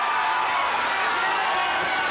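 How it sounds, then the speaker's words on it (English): MMA fight crowd going wild, a dense continuous roar of cheering and shouting from many spectators, loud and unbroken for the whole stretch. "This crowd going wild for Billy Buch"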